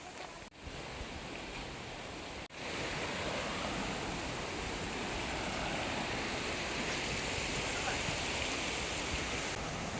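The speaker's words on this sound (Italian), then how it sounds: "Cavolo è sta cascata." The Boka waterfall in Slovenia roars as a loud, dense, unbroken wash of falling water, filling the whole stretch with steady noise close by.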